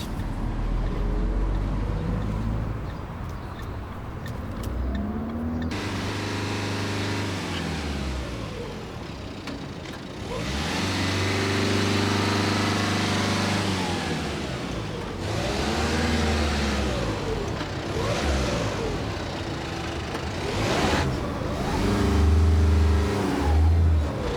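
A car engine hums and repeatedly rises and falls in pitch as the car is parallel parked between two vehicles, a steady, moderate drone with throttle swells throughout and no talking.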